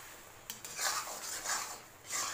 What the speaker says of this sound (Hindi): हम इसमें डाल देंगे और इसको अच्छे से मिक्स करेंगे।